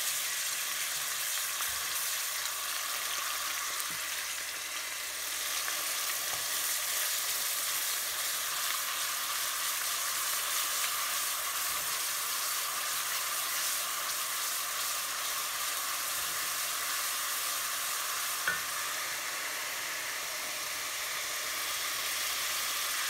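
Steady oil sizzle from food frying in a pan during preparation of sauced turkey with brown beans and rice, a continuous hiss with faint crackles that runs alone and unbroken throughout.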